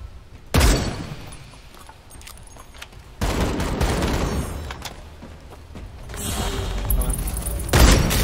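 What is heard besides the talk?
gunfire in vampire battle royale video game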